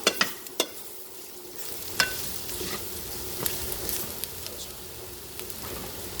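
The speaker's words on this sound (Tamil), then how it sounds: "இப்படியே இதில் இருக்கிற எண்ணெயில் சேர்த்து பிரட்டி பிரட்டி பொரிக்க விடுவோம்" Pork sizzles and crackles in hot oil while being stir-fried, with scraping stirs and clacks of a utensil against the pan at irregular moments.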